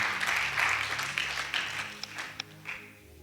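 Congregation applauding at a church Bible meditation service, a dense wash of clapping that sustains for a few seconds and then thins into scattered claps as it dies away.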